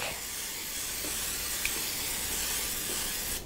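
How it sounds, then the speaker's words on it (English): A steady, close hiss of cooking oil spray on a flank steak runs almost unbroken for a few seconds, ending abruptly with a short burst. "We'll flip it over and spray the back."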